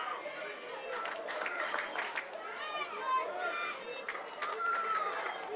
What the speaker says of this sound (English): As the crowd gets the Windsor City chant